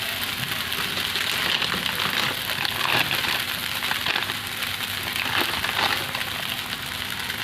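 Chire pulao of flattened rice fries in a pan over a low flame while being stirred, giving a steady dense sizzle with scraping and rustling throughout, loud and close, with no voices.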